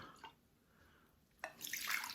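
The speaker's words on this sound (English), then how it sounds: "after 3, 6, 12 hours, you can just pour off the water." Water pours off soaked sprouting seeds through a holed lid, a short faint drip at first and then a louder splashing stream near the end.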